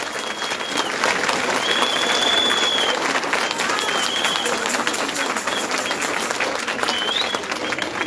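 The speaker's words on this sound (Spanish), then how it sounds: "Vamos a dar un aplauso a los señores fiscales que hicieron todo su esfuerzo." A crowd at a December posada gathering in a private home applauds the organizers, steady close clapping sustained for several seconds with scattered voices and whistles over it.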